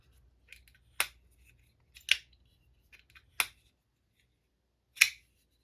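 A budget folding knife is flicked open by its rear flipper tab several times, each a crisp, bright metallic snap with a slight ring, spaced about a second apart in an otherwise quiet room, with faint small clicks between.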